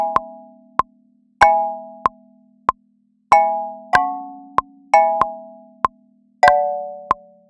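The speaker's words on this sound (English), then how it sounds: "I selected the Fairmount Marimba" Marimba chords from the Chromophone plugin's Fairmount Marimba preset ring out in a reggaeton-style pattern, bright struck chords with decaying tails alternating with single mallet notes, about a dozen hits, clean and close.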